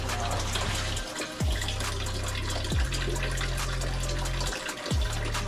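Coolant drains steadily out of a car engine in a continuous liquid gush and splatter, fairly loud and close, with no talking.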